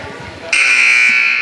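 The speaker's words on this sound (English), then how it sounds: "Buzzer sounds." A loud, sustained electronic buzzer blares at a varsity girls' basketball game, starting abruptly after a moment of gym crowd murmur and holding steady to the end.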